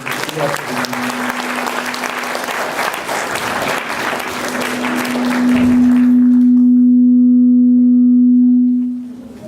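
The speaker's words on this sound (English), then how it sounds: "Could we have one final round of applause" A crowd applauds steadily for several seconds while a steady electronic tone hums beneath, the clapping thinning out and ending as the tone fades.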